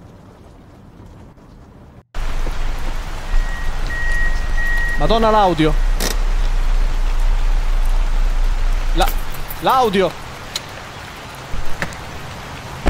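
Rain in the horror video game Night Security, a loud steady hiss of downpour starting after a short quiet gap, with someone talking briefly twice over it.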